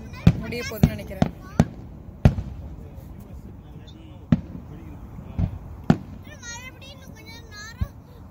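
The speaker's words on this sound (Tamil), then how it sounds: "ஃபயர் ஒர்க்ஸ் ஸ்டார்ட் ஆகிடுச்சு." Fireworks burst at a night event in downtown Boston: sharp, loud bangs and cracks pop at irregular intervals, some echoing, while children and other people chatter in the background.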